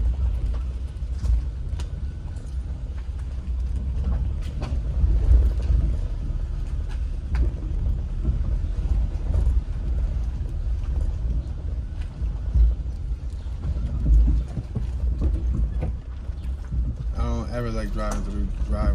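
A car rolls over a rough, bumpy residential driveway in Philadelphia, giving a steady low rumble and wind buffeting inside the cabin, with someone talking throughout.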